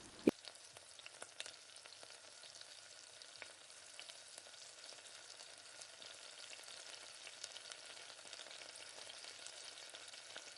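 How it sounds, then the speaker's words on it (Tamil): Vada frying in a kadai of hot oil, a faint, steady crackling sizzle running throughout with a sharp knock near the start and no voices. "கொஞ்சமாக எண்ணெய் சேர்த்து தேவைக்கு ஏற்ற மாதிரி எண்ணெய் சேர்த்து 1-2மா போட்டு பொரிச்செடுக்க போகிறேன்"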